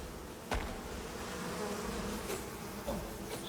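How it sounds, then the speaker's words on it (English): Bees buzz in the survival video game Icarus, a continuous insect drone with a few louder passes close by, heard alone without talk. "Bees are pretty annoying in this game."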